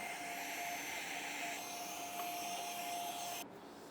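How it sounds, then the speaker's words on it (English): A small handheld vacuum cleaner runs steadily while tidying the area around a Honda Civic's headlight opening, a continuous close whine with a thin tone, cutting off abruptly near the end and leaving quieter background noise. "I'm just gonna go grab my little Fantic vacuum, clean up this area"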